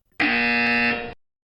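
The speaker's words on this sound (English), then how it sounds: "You will hear a buzzer." A buzzer on a live stream gives one loud, steady electronic tone that lasts about a second, then cuts off into silence.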